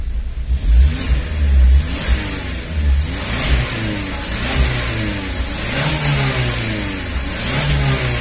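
Car engine revving after an engine flush treatment to remove internal sludge, a medium engine rising and falling through several throttle blips over a steady running hum, loud and close with no talk.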